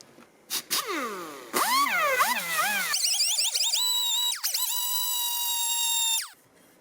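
An air-powered sander whines up and down in pitch against a motorcycle wheel with 240 grit sandpaper, bursts of spinning that rise, dip and then hold a high steady tone before cutting off, loud and close.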